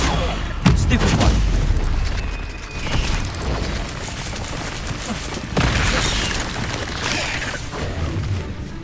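Spell combat from the Hogwarts Legacy video game: booming blasts and crashing magical impacts strike in quick succession, loud and dense, with a shouted incantation over the clash.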